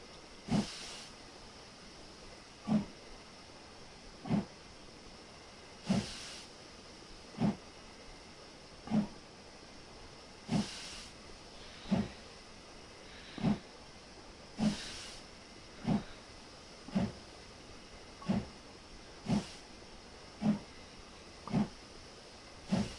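A steam locomotive in the Train Simulator game, on the Settle to Carlisle line, gives off about fifteen sharp bursts of steam hiss at a slow, even pace over a low background hiss.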